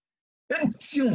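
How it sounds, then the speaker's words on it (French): A single sharp sneeze bursts out after a moment of silence, close and loud, with a quick intake and explosive release. "Excusez-moi, je viens d'éternuer"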